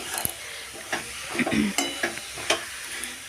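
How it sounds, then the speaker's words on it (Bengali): Grated coconut mixed with date-palm jaggery is stirred in a pan over a gas flame, with a low continuous sizzle broken by repeated scraping strokes of the spoon, close and steady. "গ্যাসে বসিয়ে দিয়েছি এটাকে ভালো করে নাড়তে নাড়তে নাড়াচাড়া করতে করতে এটা হয়ে যাবে"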